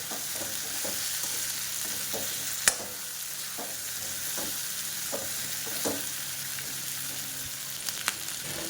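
Chopped capsicum is stirred in hot oil in a pan for a Marathi-style vegetable dish, a steady sizzle with regular soft scrapes of a spoon and one sharp clink.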